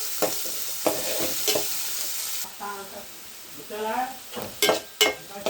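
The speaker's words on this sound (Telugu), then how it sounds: "ఆనియన్స్ కొంచెం ఫ్రై అయ్యాయి కదా ఫ్రెండ్స్" Onions fry in a pan with green chillies, a soft steady sizzle heard close, interrupted by stirring scrapes and knocks, with someone talking over part of it.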